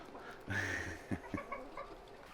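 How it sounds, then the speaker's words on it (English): Soft hen clucking nearby, a few short broken calls with brief pauses between them, fairly quiet against a calm background. "there's the new chickens or chooks"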